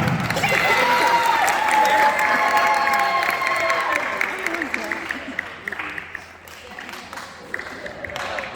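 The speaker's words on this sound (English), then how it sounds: "If y'all want to clap, clap." Audience applause fills a school band banquet awards ceremony, a dense, steady wash of clapping for several seconds that gradually thins and fades toward the end, with a few scattered claps and murmurs lingering.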